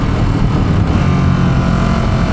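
A 2017 Ducati SuperSport motorcycle engine rumbles steadily at close range, a deep continuous drone with no talking.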